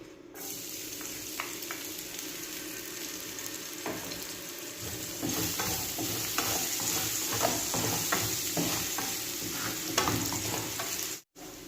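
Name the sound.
garlic sautéing in oil left from frying fish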